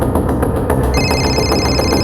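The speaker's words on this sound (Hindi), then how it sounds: "सर, नेहा का फोन।" A telephone rings with a bright, steady electronic tone that comes in partway through over a thick, constant background hum.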